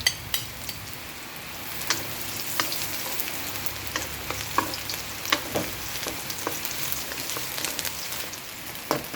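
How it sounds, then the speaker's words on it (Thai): Shallots and garlic fry in hot oil for egg and Chinese sausage fried rice, a continuous crackling sizzle dotted with sharp pops and spits, moderately quiet and close. "ใส่ น้ำมันลงไปเนาะคือเดือดแล้วก็ใส่หอมขาว หรือว่ากระเทียมซับของเราลงไปเลย"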